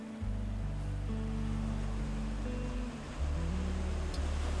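Ocean waves on a Sihanoukville beach in Cambodia, a steady low rumbling wash of surf that swells and eases, heard alone without voices.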